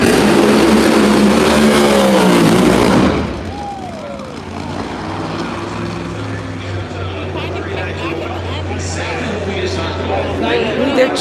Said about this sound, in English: Funny cars are chunking today.